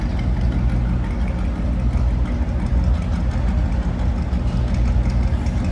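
A 1957 Chevrolet Bel Air two-door hardtop engine runs steadily at idle, a deep continuous rumble close by with no voices over it.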